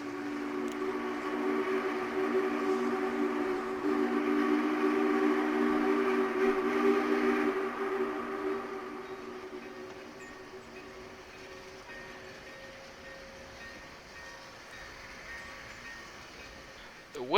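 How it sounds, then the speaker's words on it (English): The SP&S 901 Challenger steam locomotive works upgrade with a light train on the Buckley sub, a loud sustained rumbling tone that holds for several seconds and then fades into a quieter distant drone. "901 is not pulling that much of a cars, so it's gonna be a cinch for this locomotive to go upgrade on the Buckley sub."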